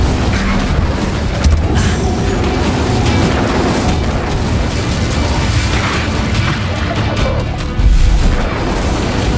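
Spell effects from Hogwarts Legacy, including the Incendio fire spell, sound as dense bursts and booming crashes over continuous game noise, loud throughout with a stronger burst near the end.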